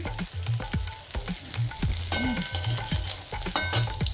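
Thick-cut eggplant pieces fry in hot oil in a pan with a steady sizzle, while scraping and stirring knocks sound at regular intervals, close and fairly loud, with no talking.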